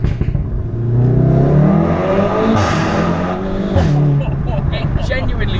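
A Volkswagen Golf R fitted with an Akrapovic exhaust revs hard from inside the car, its engine note rising and falling through gear changes with crackles between, loud and close under occasional talk.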